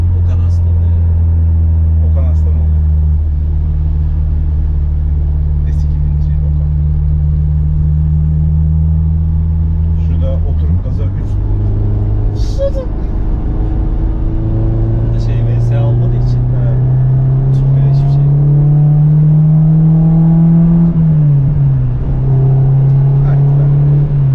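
A Honda S2000's engine idles with a deep rumble through an X-Mac exhaust, then revs up and holds, the pitch rising and dipping as people talk nearby.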